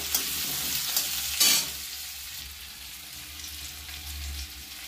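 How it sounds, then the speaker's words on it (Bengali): Chopped onion sizzles in hot oil in a pan, with a brief louder scrape of stirring early on, then a steady low frying hiss; close and quiet, no speech. "পেঁয়াজটা দিয়ে একটু ভালো করে নাড়বো।"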